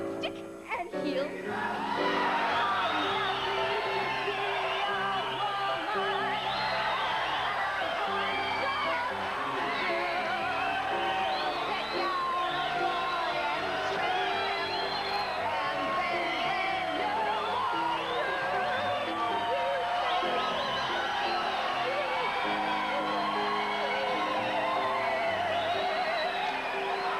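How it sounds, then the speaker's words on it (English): A large crowd cheers and whoops continuously for nearly half a minute, with dense overlapping yells and shouts forming a loud, sustained roar that barely lets up. "I never heard such a reaction from a crowd before."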